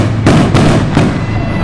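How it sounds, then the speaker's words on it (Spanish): Fireworks rockets going off at a dance during a December rodeo celebration in Nenetzintla: three sharp, loud bangs in quick succession over ongoing music and crowd noise. "¡Chin los cohetes!"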